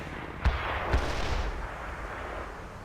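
Artillery fire in the war video game The Third World War lands as two heavy booms about half a second apart, followed by a broad, rumbling roar that slowly fades.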